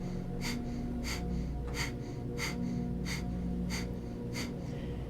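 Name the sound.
breath of fire: rapid rhythmic exhalations, Kundalini yoga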